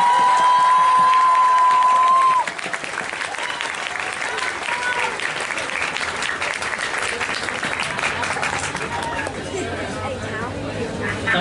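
An anime convention crowd applauds and cheers for cosplayers on stage, a whistle-like tone fading early before loud sustained clapping with shouts and chatter.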